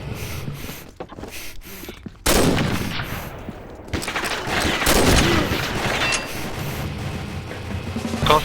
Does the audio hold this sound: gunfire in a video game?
yes